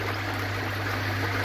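Pond air pump turned up to full power, driving a steady, continuous bubbling and rushing of water close by with a constant low hum underneath, unbroken throughout.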